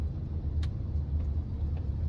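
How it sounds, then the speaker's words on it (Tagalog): Heavy, slow road traffic on a rainy day, heard as a steady low engine and tyre rumble from nearby cars with a few faint brief clicks on top and no talking. "At napaka-traffic naman."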